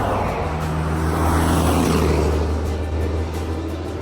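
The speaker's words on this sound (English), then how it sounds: "There's a car coming. They're really loud." A loud car passes on a road beside the Tennessee River: a broad roadside rush that swells toward the middle and eases off, heard close with no talking.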